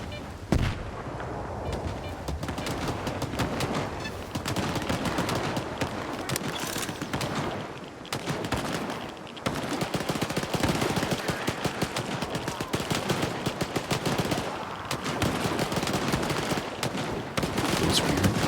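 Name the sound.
gunfire in the video game STALKER 2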